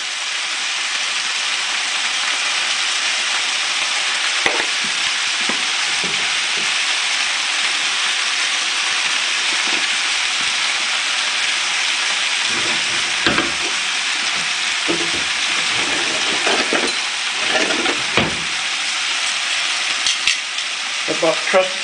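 Garlic sizzling in a pan with potatoes and onions, a steady bright crackling fry throughout, broken by occasional scraping and stirring knocks, with someone talking now and then.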